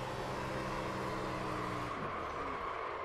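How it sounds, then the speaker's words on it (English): Race car spinning out in a racing video game during qualifying, a steady loud engine whine and tyre roar that drops in pitch as the car slides, with no voices. "See if I can spin this thing out."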